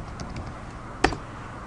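A few soft keystrokes on a computer keyboard, with one sharper key press standing out, quiet and close with no talk.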